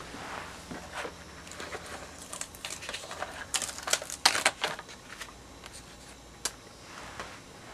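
An electronic craft cutting machine cuts out a printed design with soft, irregular clicking and scratchy tapping bursts, quiet and close, with brief louder clusters midway.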